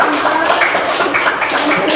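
A classroom group claps for the first discussion group, producing a dense, loud burst of applause that fills the two seconds without pause.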